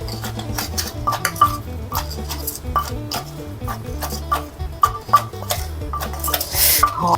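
A pestle pounds star gooseberry salad with sugar and fish sauce in a mortar, each knock sharp and woody in a steady, brisk rhythm of many close strikes, with someone briefly speaking.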